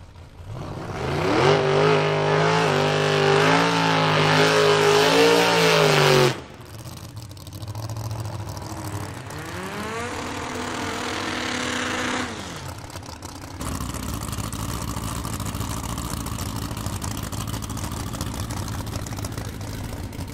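A four-cylinder Ford competition car engine revs hard, rising and falling in pitch, then drops to a lower run before settling into a steady, loud drone.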